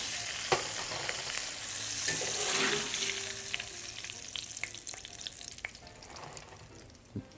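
Oysters fry in hot oil with a steady, close crackle and sizzle, swelling slightly midway, with occasional sharper pops and a light clink.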